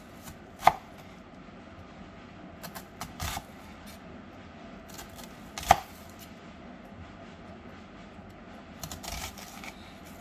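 A knife dices chicken on a cutting board in a home kitchen, giving a few sharp, isolated chops with short clusters of quicker light taps between them and quiet gaps in between.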